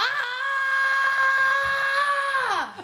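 A lone voice imitates a hellish scream, one sustained, close, loud shriek held steady for over two seconds before it drops away and cuts off.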